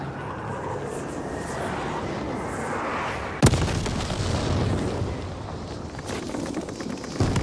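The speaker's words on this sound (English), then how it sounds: "We got a glide bomb coming in." Glide bomb explosion in Call of Duty: Vanguard, a sharp loud boom midway through amid aircraft drone and battle noise, followed by rumbling and a second smaller blast near the end.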